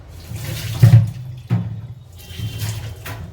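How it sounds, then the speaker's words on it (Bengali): Running tap water splashes over two tomatoes being washed at a kitchen sink, a steady close rush broken by a couple of louder bursts as the tomatoes are turned under the stream. "এবার এই দুটো টমেটোকে ধুয়ে নিলাম"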